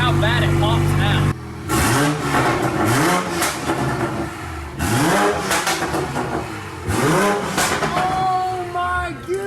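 A turbocharged car engine is revved hard several times in bursts, rising and falling loudly up close with pops between pulls, while people talk around it.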